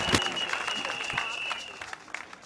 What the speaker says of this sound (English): let's hear a round of applause for his maiden political speech